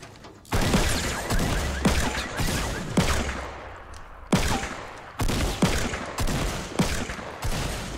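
Rapid bursts of gunfire from Fortnite gameplay, several loud volleys in a steady rhythm with brief gaps between them, dense and up close with no talking.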